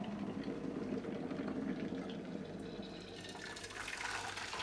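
Water runs steadily into a saucepan on a home kitchen stove, a continuous close splashing fill whose tone shifts as the level rises, heard alone without talking.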